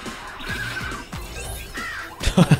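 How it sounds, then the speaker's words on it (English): Crows caw in the Roach Race arcade game within Cyberpunk 2077, with several rough calls among game effects and a burst of clattering sounds at the end, without any talking. "Now we got crows."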